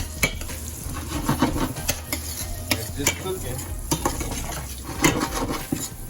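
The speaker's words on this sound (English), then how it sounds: "now that the butter heated up, I'm gonna go ahead and put this shrimp in there" Shrimp sizzling in heated butter in a pan, a constant frying hiss broken by scraping stirs and knocks of a utensil against the cookware.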